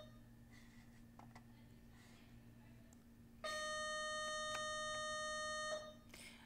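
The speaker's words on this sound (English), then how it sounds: "Okay, that was the bell." A school bell rings in a classroom setting, a steady electric buzzing ring that starts suddenly partway through, holds for about two seconds and then cuts off, following a quiet stretch of room tone.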